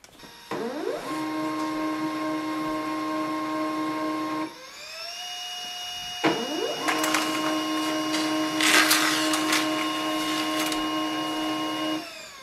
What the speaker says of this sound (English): Select Pantum printer, so that is here, and click on the print button.